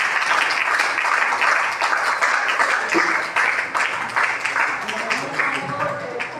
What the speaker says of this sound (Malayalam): നിറഞ്ഞ കയ്യടി കൊടുക്ക്